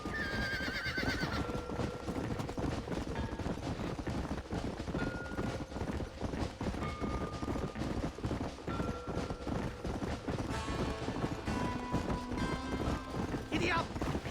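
A horse galloping and whinnying in the video game Red Dead Redemption, fast clip-clop hoofbeats running steadily under game music, with loud neighs at the start and end and a voice speaking.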